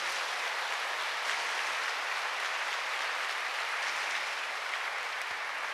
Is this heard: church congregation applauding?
yes